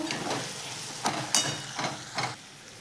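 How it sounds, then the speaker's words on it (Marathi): Thinly sliced potatoes with turmeric frying in a pan, with a soft steady sizzle broken by four or five distinct scraping stirs of a spoon, close and fairly quiet. "अर्धा चमचा हळद बटाट्याच्या बारीक काप केलेल्या घेऊयात टाकून छान घेऊयात मिक्स करून"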